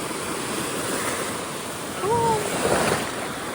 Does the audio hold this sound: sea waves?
yes